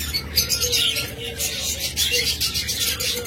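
Pet budgerigars, diamond doves and lovebirds chirp together in a busy, continuous chatter of high tweets and twitters, close by and fairly loud.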